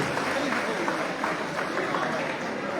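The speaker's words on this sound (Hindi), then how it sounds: "जोरदार तालियों से स्वागत करें" A teachers' association gathering applauds to welcome a member of parliament, a continuous, fairly loud wash of clapping from a large crowd with a faint murmur of voices mixed in.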